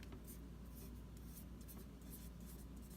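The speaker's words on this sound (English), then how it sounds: "And I'm going to write person." A word written by hand, likely with a marker on a whiteboard, with soft, close scratchy strokes in short rapid bursts over a steady background hiss.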